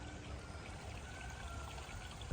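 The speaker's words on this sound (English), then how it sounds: "Pretty stream." A pretty woodland stream flows steadily with a soft, continuous pouring and trickling wash of water, close by and uninterrupted, with no voices.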